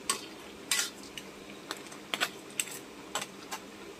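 A spoon scrapes and clinks against a pot while crab and shrimp simmer in coconut milk with squash and long beans, sharp irregular taps and stirs over a faint bubbling background, no one speaking.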